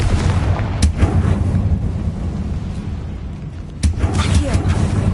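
Two booming Confringo spell blasts go off in a witch-themed adventure video game, roughly three seconds apart, each with a sharp crack and a rumbling tail over a low background.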